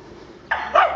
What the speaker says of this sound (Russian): Даже собаки лают, да?